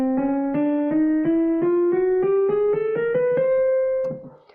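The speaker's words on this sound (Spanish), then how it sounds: "a esta escala se le llama escala cromática y suena así." A chromatic scale climbs one semitone at a time, about a dozen evenly spaced, ringing notes rising steadily before a brief fade. The instrument plays alone with no talking.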